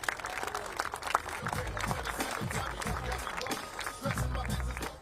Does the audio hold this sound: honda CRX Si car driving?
no